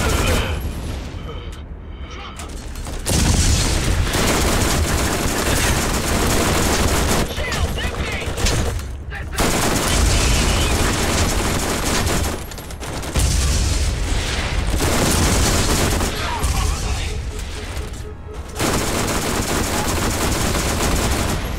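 An SMG fires in the video game Borderlands GOTY Enhanced: loud, sustained rapid-fire bursts broken by short pauses and kept up for about twenty seconds.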